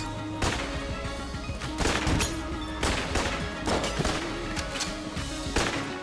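Sniper gunfire in the video game Enter the Gungeon, a series of loud crashing shots and impacts recurring every second or so amid a dense layer of game music and effects.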